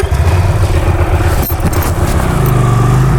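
A Hyosung Aquila 300 motorcycle engine turns over and settles into a loud, close, throbbing idle.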